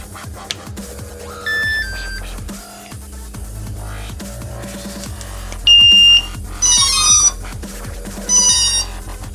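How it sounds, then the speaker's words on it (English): A sequence of electronic beeps from a drone radio transmitter starting up, short tones rising in pitch, then several louder, longer beeps, over a steady low hum. "you heard the little startup sequence, and then the transmitter beeps again, and it's ready"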